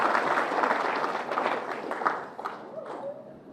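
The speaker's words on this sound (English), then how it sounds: "Another round of applause." Applause from the audience at a junior football presentation night, a dense wash of many hands clapping that starts loud and steady, then thins and fades toward the end, with a voice briefly audible as it dies away.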